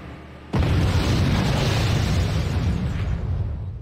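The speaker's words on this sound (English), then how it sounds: "Sir, I heard an explosion!" A loud explosion in the video game Act of War: Direct Action, a suicide truck blast at an embassy front entrance, hits suddenly as a heavy boom, then a sustained roaring rumble that slowly fades.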